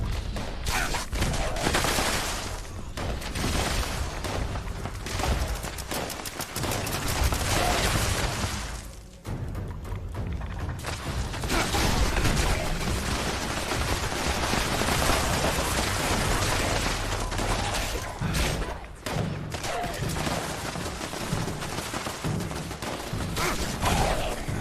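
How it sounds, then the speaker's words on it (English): Sustained gunfire during a Fallout 76 online event, dense and continuous bursts and volleys filling the whole stretch at high level with barely a pause. "That guy's wasting a lot of bullets."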